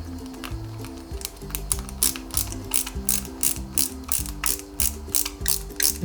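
Small screws are driven into a Lancia 037 scale model with a hand screwdriver, making rapid repeated ratcheting clicks in close, rhythmic bursts with no voices.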